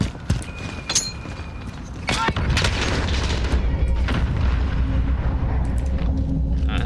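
A grenade goes off in Call of Duty Modern Warfare, a sudden loud boom that gives way to a heavy, sustained rumble of debris and gunfire-like noise that lasts to the end.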